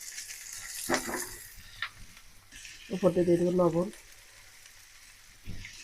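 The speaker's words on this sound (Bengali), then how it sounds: "পেঁয়াজ কাঁচামরিচ হালকা ভাজা হয়ে গেছে ফুলকপি আলুটা দিয়ে দেবো" Cauliflower and potatoes fry in hot oil with onion and green chilli, giving a steady soft sizzle beneath a person speaking nearby.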